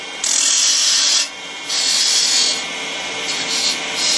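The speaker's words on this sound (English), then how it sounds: "We'll start out with a 3/8 inch spindle gouge." A 3/8 inch spindle gouge cuts a bead on spinning wood on a lathe, giving a steady hissing scrape in a few bursts with brief gaps between cuts.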